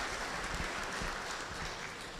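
Sustained applause from an audience at a climate change conference, a steady dense wash of clapping that holds at even level for a couple of seconds with no talk over it.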